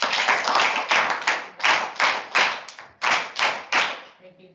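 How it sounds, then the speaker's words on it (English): A classroom of students claps for a classmate in an English lesson. Close, loud, rhythmic group clapping comes in steady, even pulses and then stops abruptly, with a brief voice at the end. "Please clap for him."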